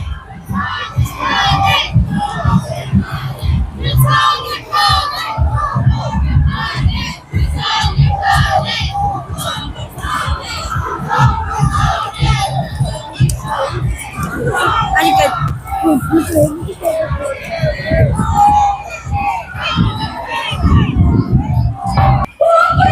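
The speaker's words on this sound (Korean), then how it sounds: "사람들이 지금 윤석열 탄핵이라고 외치면서" A large protest crowd at the Gwanghwamun rally in Seoul chants for Yoon Suk Yeol's impeachment, loud rhythmic massed shouting that rises and falls continuously, with people talking nearby.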